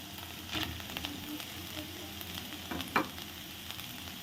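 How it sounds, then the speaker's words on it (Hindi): Chicken and garlic sizzle and crackle softly in oil in a pan, with a few scraping stirs and one sharper spatter partway through. "लहसुन को हल्का सा मैंने 1 से 2 मिनट ऑयल में फ्राई कर लिया है।"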